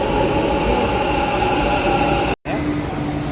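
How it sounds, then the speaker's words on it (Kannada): A metro train pulls into a station with a loud, steady rumble and hum that fills the space, briefly cutting out before continuing. "ಮೆಟ್ರೋ ಬಂತು"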